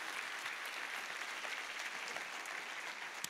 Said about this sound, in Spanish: Dale más fuerte ese aplauso al Rey